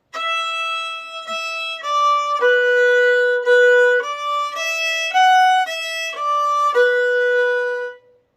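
A fiddle plays a short melodic phrase from the tune Squirrel Hunters, bowed notes moving step by step with a steady rhythm, clear and up close with no talking.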